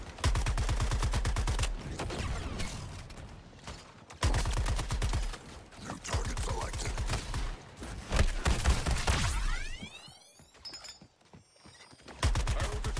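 Heavy bursts of automatic gunfire from Deadshot's weapons in the Suicide Squad video game, repeated loud volleys separated by brief gaps, with a sweeping electronic whoosh near the end.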